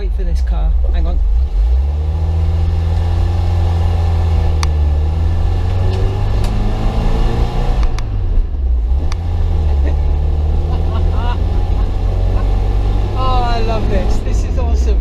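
Mk3 Ford Cortina Estate engine droning while driving, a loud low hum rising and falling as it accelerates and shifts, with people talking over it inside the car.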